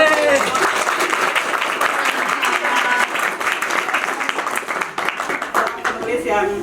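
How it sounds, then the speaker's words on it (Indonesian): An audience at a book discussion claps for the host, Rahmat Heldi, in a full burst of applause, with a speaking voice heard over it at the start and again at the close. "tepuk tangan untuk Mas Rahmat Heldi"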